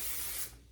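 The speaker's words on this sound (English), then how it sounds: "I call it a freezing spray, firm hold spray, just right here on the top" Firm hold hairspray hisses from a can onto the top of the hair in one steady, close burst lasting under half a second, then cuts off into quiet.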